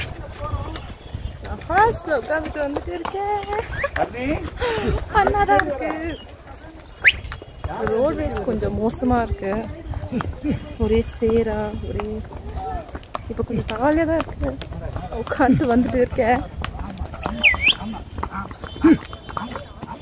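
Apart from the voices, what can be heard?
horse hooves clip-clopping during a pony ride on a mountain road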